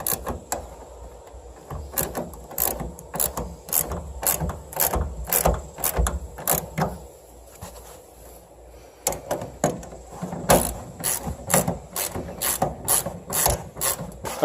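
A ratchet wrench tightens exhaust clamps on a truck, with rapid rhythmic bursts of sharp clicking, a short pause midway, then more clicking strokes close by.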